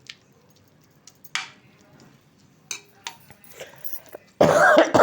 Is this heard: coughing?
yes